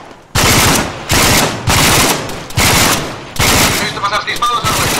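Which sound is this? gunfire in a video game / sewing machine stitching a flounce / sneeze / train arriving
gunfire in a video game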